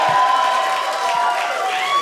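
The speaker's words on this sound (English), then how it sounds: "don't applaud for that." A comedy club audience at a Stephen Kramer Glickman stand-up show claps and cheers in a dense, steady roar that fills the whole two seconds without a break.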